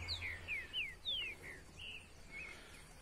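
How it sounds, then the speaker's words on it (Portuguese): A small bird near its nest gives a quick series of high, thin downward-sweeping chirps, about six or seven calls spaced irregularly, faint against quiet outdoor background. "Não sei que passarinho é esse."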